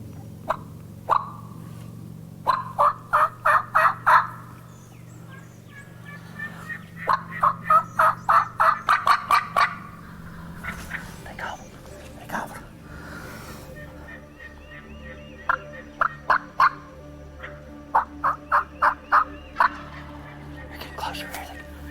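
A wild turkey gobbles in answer to a yelp call during spring turkey season, repeated rattling gobbles and clucking bursts coming in clusters at moderate distance over quiet outdoor background, with a low voice briefly in between.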